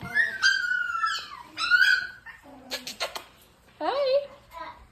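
Schnauzer puppy whimpering and yipping in high, sliding whines, several short cries in quick succession, close by, with a person's voice speaking over it.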